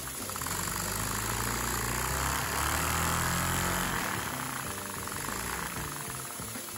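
A small engine runs steadily, driving a high-torque Lego clutch, with a continuous buzzing drone that swells briefly as it is revved and the clutch engages, then settles back, alone with no talk.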